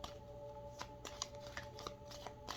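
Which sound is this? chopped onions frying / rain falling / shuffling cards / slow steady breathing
shuffling cards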